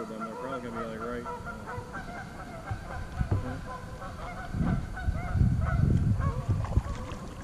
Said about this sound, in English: Them geese is all sorts of angry.